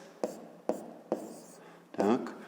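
Marker or chalk strokes writing letters on a board during a fifth-grade geometry lesson, several short scratchy strokes in a rhythmic series, close and fairly loud, with a voice speaking briefly at the end.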